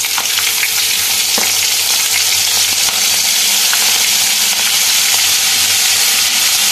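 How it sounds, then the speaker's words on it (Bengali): A mustard and green chilli paste masala fries in a pan for hilsa curry, giving a loud, dense, continuous sizzle with occasional stirring clicks, close up and without voices. "এই মশলাটাকে একটুখানি কষিয়ে নেব"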